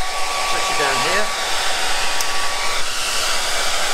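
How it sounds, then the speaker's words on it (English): A hair dryer blows over a watercolour painting of a French river scene, a steady loud whirring hiss with a shifting tone as it moves, running throughout with no talk. "let's give it a quick once-over with a hairdryer"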